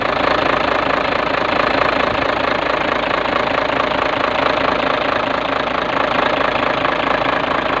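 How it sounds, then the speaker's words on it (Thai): A Hino J08C engine idles in a tractor-head truck, giving off a constant rattling, knocking diesel clatter, heard up close and loud with an unbroken rhythm and no voices. "มาฟังเสียงเครื่องเพาะๆกันหน่อย เครื่อง JO8C"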